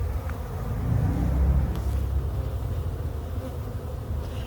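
Bees buzz in a dense, continuous hum, swelling a bit louder in the middle, with a low rumble underneath, a swarm being collected from a branch.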